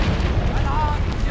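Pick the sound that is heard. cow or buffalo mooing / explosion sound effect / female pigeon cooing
explosion sound effect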